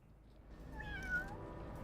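A cat meows once in a drawn-out, faint call, heard during a Fallout 4 gameplay session with a low steady background hum and no talking.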